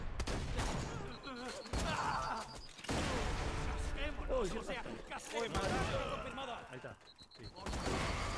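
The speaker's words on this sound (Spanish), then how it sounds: "Tiran granadas." Grenade blasts and gunfire in the shooter game Borderlands 2, dense rapid bursts and booms running almost continuously, with players talking over the fighting.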